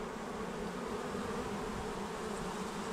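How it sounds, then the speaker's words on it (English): Honey bees in a busy, well-populated hive open for inspection, a dense, steady buzzing drone filling the air close by, with no voices. "There's a lot of bees on it. Yes. It's a very, very busy hive."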